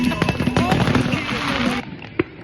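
Fireworks going off close by at a bonfire night outdoor gathering: a rapid crackling string of sharp loud pops and bangs, then quieter with a single late bang, with voices and crowd noise underneath.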